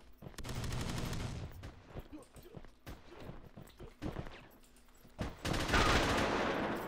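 Gunfire in the online shooter Red Crucible 2 with a mobster-type gun, dense bursts of rapid shots at the start and a loud burst near the end, broken by scattered single shots and quieter gaps.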